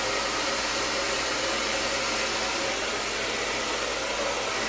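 A hair dryer blasts steadily while blow drying hair, a loud, close, unbroken roaring whoosh that stays even from start to finish with no voices over it.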